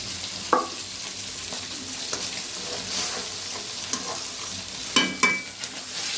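Spices with chili and turmeric being sautéed in a pan while tilapia fish is cooked, a continuous sizzle punctuated by several sharp scraping stirs from a spatula.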